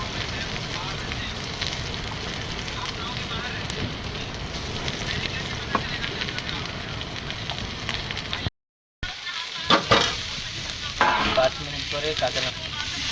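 Garlic and ginger paste frying in a pan and being stirred, a steady close sizzle with scraping stir noises, cut by a brief silent gap before more clatter and crackle.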